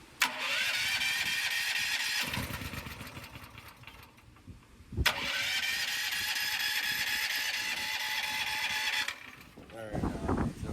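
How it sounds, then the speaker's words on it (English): A Firman generator running on LPG cranks on its electric starter and catches, its engine droning steadily at close range, stopping midway and then restarting into a loud, even run, with people talking over it. "I think you hit the electric start"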